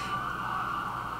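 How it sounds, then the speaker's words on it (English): Emergency sirens wail outside, a steady high-pitched tone that holds without a break through the short stretch, fairly loud with no talking. "as we hear the sirens go off right now"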